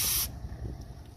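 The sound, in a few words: spraying engine degreaser cleaner onto timing belt area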